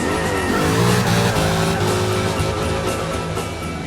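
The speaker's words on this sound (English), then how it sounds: "God, this car is perfect at drifting." Jaguar XFR-S drifting, its tires squealing loud and close over a strong, continuous engine roar that shifts in pitch through the slide.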